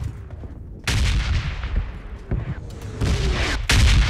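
Shotgun fire in the battle royale game PUBG Mobile, with several loud, booming blasts at irregular intervals over a deep rumbling background, each blast heavy and close.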